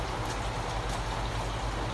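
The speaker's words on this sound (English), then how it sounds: "Fill up a watering can with your nutrient solution, then you can come over and just water the tops" Nutrient solution pours from a watering can onto the tops of fabric grow bags, a steady close splashing and trickling of water soaking into the soil, with no voices.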